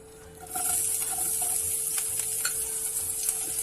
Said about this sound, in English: Now put in the onions inside the pan.